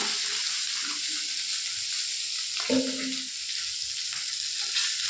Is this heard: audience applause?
no